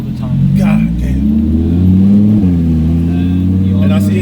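A wide-body Lamborghini Huracan on coilovers with a Soul Performance exhaust revs loudly nearby, its engine note rising and falling in a deep sustained roar while people talk over it.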